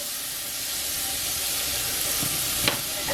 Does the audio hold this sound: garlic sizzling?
yes